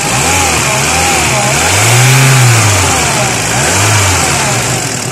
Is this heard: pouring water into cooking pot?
no